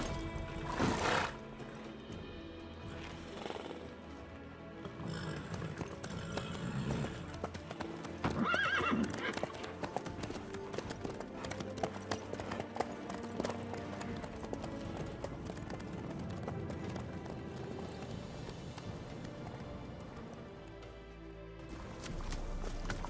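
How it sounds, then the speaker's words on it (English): Horse hooves clip-clop steadily in The Witcher 3, a rhythmic trotting clatter with an occasional whinny and snort, running throughout under soft ambient game sound, with brief quiet dialogue. "How's your horse? Swift?"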